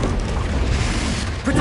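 Confringo explosive spell blast in the Hogwarts Legacy video game, a loud, dense, rumbling boom that fills the whole short moment with no gap.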